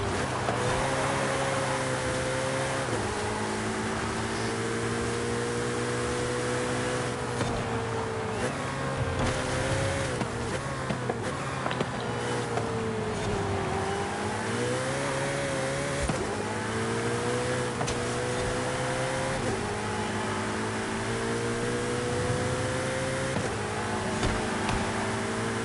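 A Ferrari engine drones steadily through a drive in Forza Horizon 5, loud and continuous, with small shifts in pitch as the revs change and a voice talking over it at times.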